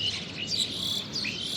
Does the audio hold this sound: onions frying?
no